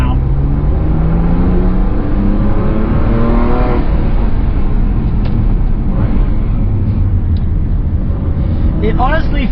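A BMW M2 driving and revving, its engine note rising and falling steadily with gear changes, close and loud throughout, with a voice speaking over it.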